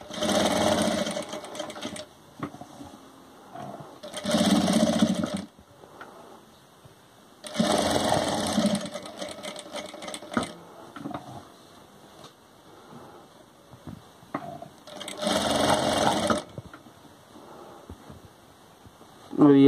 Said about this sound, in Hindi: सिलाई करेंगे हम,